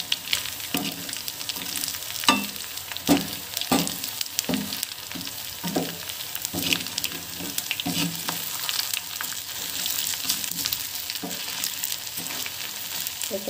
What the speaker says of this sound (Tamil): எந்திரிச்சு கடுகு போட்டுக்கலாம்.